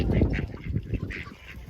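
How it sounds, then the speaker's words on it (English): Geese and ducks honk and quack in a noisy close cluster while being fed by a campervan, calling repeatedly over one another. "It's now time to feed the geese and the ducks."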